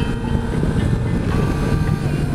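Steady, broadband wind rush buffeting the microphone while riding a Yamaha MT Tracer 700 motorcycle, constant and loud with a low rumble throughout and no talking.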